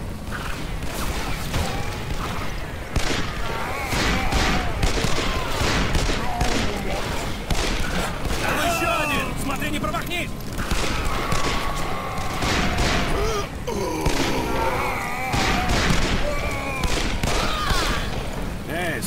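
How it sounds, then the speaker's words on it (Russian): Repeated gunshots and sharp bursts of fire in the western shooter Call of Juarez: Bound in Blood, loud and close over about nineteen seconds, mixed with thuds, mechanical clatter and shouting voices. "Стреляй!"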